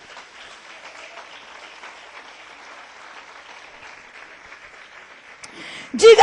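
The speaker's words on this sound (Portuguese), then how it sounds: "Você pode aplaudir o Senhor?" Soft, distant applause from a church congregation praising the Lord, a steady faint patter of clapping that ends in a sudden loud close-up thump.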